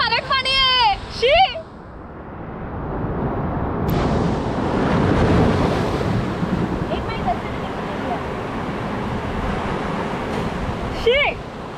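Big ocean waves surge onto the beach at Varkala, a steady close roar of surf mixed with wind buffeting the microphone, with voices speaking briefly at the start and end.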